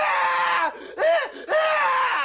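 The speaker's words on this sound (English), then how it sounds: "So we're going with that man screaming bloody murder." A man screams loudly as a sound effect, in three close bursts with short gaps between them, rising and falling in pitch, with no other sound around it.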